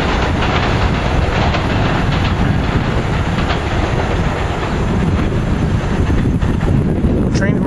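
Commuter cars with a cab car roll past a railroad tower, loud and near, a dense rumble with rhythmic wheel clatter over joints and some wind buffeting, a voice talking briefly over it.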